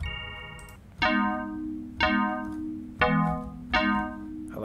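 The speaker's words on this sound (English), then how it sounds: "we're just going to look for bells. Where can we find a bell? Look, there's a whole bell section." Bell presets from the Citrus synth in FL Studio, four bright struck tones about one second apart, each with a sharp attack and a ringing harmonic decay.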